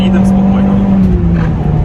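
Citroen C4 VTS engine pulling hard above 5000 rpm while accelerating in third gear, a loud steady drone heard from inside the car, with a voice speaking over it.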